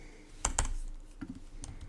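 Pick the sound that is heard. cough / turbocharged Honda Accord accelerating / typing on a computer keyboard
typing on a computer keyboard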